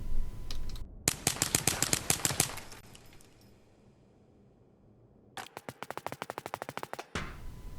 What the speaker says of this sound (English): I will now mag dump wildly